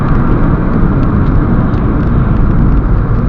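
Inside a 2008 Hyundai Coupe 2.0 during a brake test, a loud, dense road and engine rumble fills the cabin steadily throughout.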